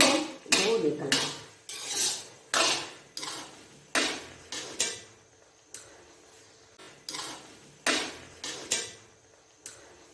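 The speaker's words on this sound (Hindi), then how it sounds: "इसको ऐसे चम्मच को मसलसल चलाएं ताकि इसका जो घी है वो निकल आए।" A spoon scrapes and knocks against a pan while stirring carrot halwa in ghee, a steady series of sharp metallic strokes about once a second, close and clear with no talking.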